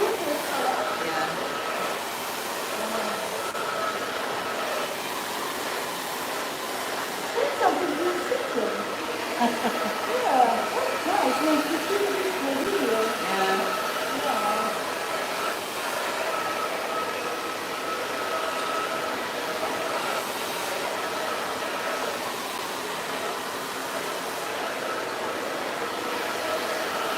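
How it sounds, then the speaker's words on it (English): A hair dryer blows long hair with a steady, loud, unbroken whooshing roar through the whole clip, and a voice speaks faintly underneath part of the way through. "Usually when I do my hair, I blow dry a little bit"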